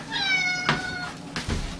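A cat meows at a door indoors, two or three close, clear meows in quick succession with a short gap between them, no voices.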